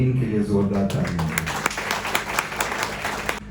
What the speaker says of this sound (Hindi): हिस्ट्री TV 18 के लिए जोरदार तालियां।